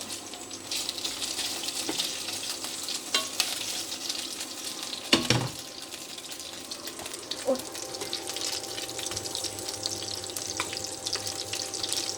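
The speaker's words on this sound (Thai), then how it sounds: "สุกแล้วเราก็เร่งไฟไล่น้ำมันเลย" Cooked pork sizzles loudly and steadily in a pan over raised heat to drive off the fat, with scattered clinks of a utensil stirring and one sharp scrape near the middle.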